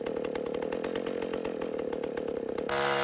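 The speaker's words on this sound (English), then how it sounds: "Always hold a running chainsaw firmly using both hands." A running chainsaw cuts through wood, its loud steady buzzing motor continuous throughout with a rapid rhythmic chatter, shifting to a higher, brighter whine near the end as the load changes.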